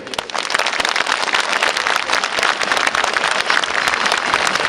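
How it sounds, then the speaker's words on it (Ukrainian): Dense, loud audience applause fills a hall at a memorial evening for Kuzma Skryabin in Ivano-Frankivsk, a steady wash of many hands clapping throughout with no voices on top. "Давайте ще раз подаруємо порцію аплодисментів."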